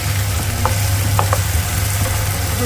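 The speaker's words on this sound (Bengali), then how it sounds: "কাঁচা লঙ্কাটাকে কষে আলুটা তো পুরো ভাজা ভাজা হয়ে গেল" Potatoes and green chillies fry in a pan with a steady, close sizzle and a few light stirring knocks, no voices.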